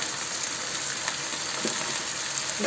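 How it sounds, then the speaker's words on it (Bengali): Chicken quarters for chicken kabsa frying in a pan, a soft continuous sizzle and hiss with faint crackles, steady and fairly quiet with no talk. "এটাকে আমি ভালোভাবে ভেজে নেব"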